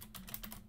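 Quick burst of keystrokes on a computer keyboard, about six or seven light clicks in rapid succession, faint and close, with no voice.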